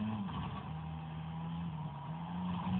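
Driving in Driver: San Francisco, a game car holds a steady loud engine drone while drifting, with a sustained tire skid running throughout, close and continuous without pause.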